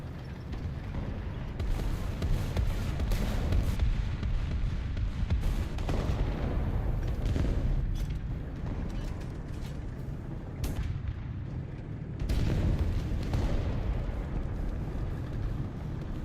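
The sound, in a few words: machine gun fire from airplane in video game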